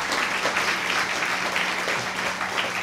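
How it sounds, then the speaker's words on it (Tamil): A crowd at a Tamil pattimandram comedy speech gives a round of applause, a steady, even patter of many hands that continues throughout. "நல்ல நல்ல ஒரு கைத்தட்டு கொடுங்க."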